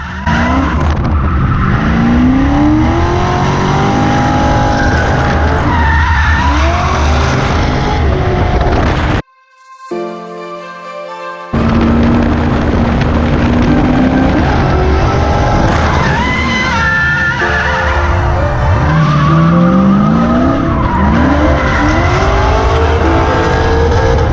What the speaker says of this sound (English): we went out for some full track drifting, working out the wise fab, trying some backies on the hairpin